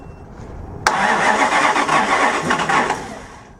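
A car engine with a newly fitted budget distributor cranks after a sharp onset, churning loudly and unevenly for about two seconds, sputtering as it tries to catch, then fading out without running.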